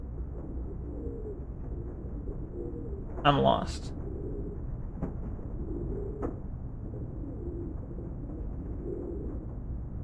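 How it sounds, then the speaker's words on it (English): Faint pigeons cooing in repeated low murmurs under a steady background hum, broken by a brief burst of noise while a voice speaks briefly. "Why am I hearing like pigeons?"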